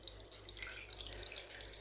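Water drips and trickles out of a cut plastic toy packet, a close, steady wet patter with small splashy bursts and no talking.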